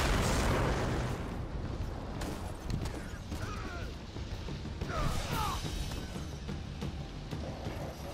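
A big explosion in the video game Destiny booms at once into a loud, rumbling roar that fades into a long, crackling wash of debris, with voices under it.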